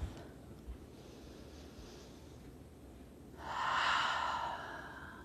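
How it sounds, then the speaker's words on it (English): Slow, deep breaths drawn in through the nose and let out through the mouth, one long soft exhale swelling midway and trailing off, close and quiet with no talking. "just take a couple of deep breaths, just sort of clearing, cleansing, breathing in through your nose, maybe even breathing out your mouth"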